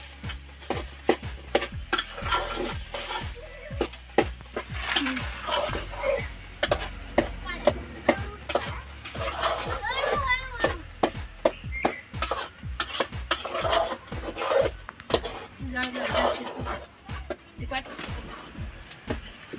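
Puran of jaggery with cardamom powder and a little salt is stirred and sautéed in a pan, rhythmic repeated scraping and spoon knocks with soft sizzling underneath, while someone talks over it.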